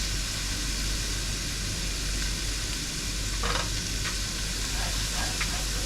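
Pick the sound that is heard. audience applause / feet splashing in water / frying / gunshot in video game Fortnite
frying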